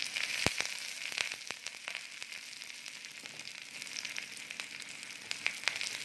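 Thinly sliced shallots and curry leaves fry in hot oil for a Kerala-style roasted-coconut fish curry, giving a steady soft sizzle with scattered crackles and pops up close, fairly quiet and without talk.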